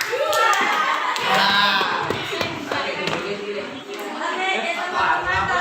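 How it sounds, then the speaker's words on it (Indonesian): A classroom group claps hands together at a teacher's prompt during a school session, a steady patter of claps mixed with taps and thumps up close, with voices talking over it. "Ya, beri tepuk tangan dulu"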